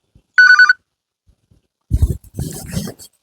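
One short electronic telephone ring sounds close by, followed after a pause by a voice speaking briefly.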